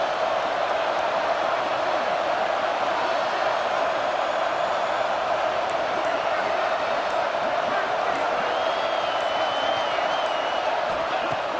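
Steady stadium crowd roar in EA Sports College Football 26, a dense, continuous wash of massed voices and cheering that stays loud and even throughout, with faint whoops rising above it.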